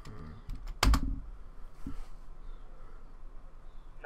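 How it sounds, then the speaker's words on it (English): A computer keyboard is tapped in a short cluster of sharp clicks, then a single key press follows a moment later. The sound is close and fairly quiet over low room noise, and no one talks. "Now, to check the result, you need to press enter from your keyboard."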